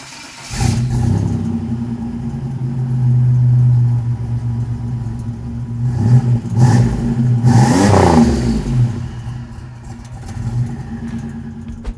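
A restomodded 1987 Buick Grand National with a turbocharged V6 idles, then revs loudly and close up in a few swelling bursts, climbing sharply once before settling back down.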